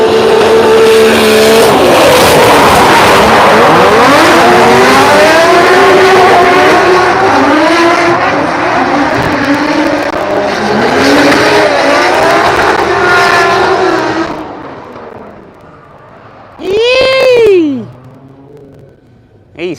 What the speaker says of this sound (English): Yukaibis and Ake in behind chasing.